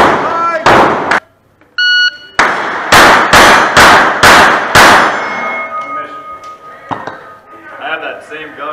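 Pistol shots ring out at a Steel Challenge match at a Wyoming shooting club, a loud, quick string of about half a dozen sharp cracks with steel targets clanging, followed by an electronic timer beep and nearby voices.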